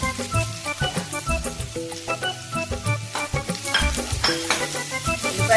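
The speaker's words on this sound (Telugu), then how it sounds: "ఉల్లిపాయలు వేసుకొని ఎర్రగా వేపాలన్నమాట." Sliced onions sizzle and fry in a hot pan as they brown for a pepper chicken fry. Loud, steady crackling sizzle with irregular stirring scrapes and no talking.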